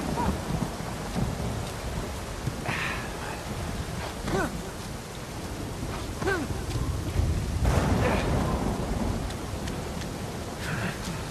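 Steady rain pours down in an Uncharted 4 game scene, with low rumbles of thunder rolling underneath and a few sharper crackles. The storm noise stays dense and continuous throughout.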